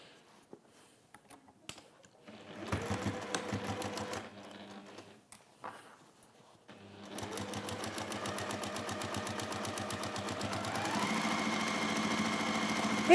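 A sewing machine stitches around fabric fitted with popper accents, starting in short bursts then running in a steady, fast mechanical rattle that grows louder toward the end, close up with no talking.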